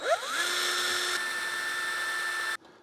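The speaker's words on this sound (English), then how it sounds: "I'm just gonna drill another pilot hole lower down" A power drill bores a pilot hole, its motor whining up to a steady high pitch and holding there for a couple of seconds before cutting off abruptly.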